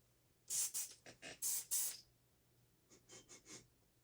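A quick burst of short hisses from a pumpkin pecan waffle scented aerosol spray, then a pause, then a few softer spritzes, all close up.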